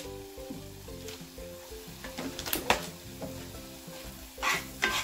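Sizzling frying pan being stirred while making egg-stuffed meatballs with beef stock, steady hot crackle with intermittent scraping stirs and a few louder clatters of the utensil against the pan.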